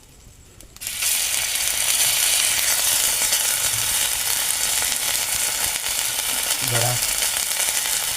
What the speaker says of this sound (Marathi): परतून घेऊ आपली